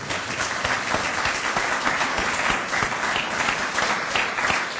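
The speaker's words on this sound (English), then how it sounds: "So, Professor Bhagwati, please accept our thanks, our applause, and this bottle of fine Australian wine." Lecture-hall listeners applaud an economics professor after his talk on free trade, a full, steady wash of many hands clapping at constant loudness for nearly five seconds, alone.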